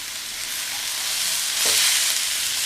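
Chopped chow chow (chayote) poriyal frying and being stirred in a pan after salt is added, a close, continuous sizzling hiss with a brief stirring scrape partway through.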